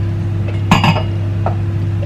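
A martini glass clinks while a gin martini is mixed, two bright close glassy taps in quick succession followed by a fainter single clink, over a steady electrical hum.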